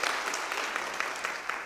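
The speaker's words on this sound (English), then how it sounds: "I can't resist another round of applause" Dense applause from a seated audience at a year-in-review presentation, a steady wash of clapping that holds evenly for under two seconds.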